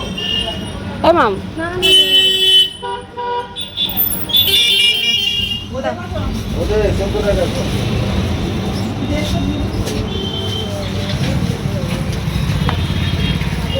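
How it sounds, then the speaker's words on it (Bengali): Traffic on a congested road, with horns tooting over a steady rumble of engines from cars, buses and motorbikes, and someone speaking briefly near the start. "এখানে যানজট রাস্তা"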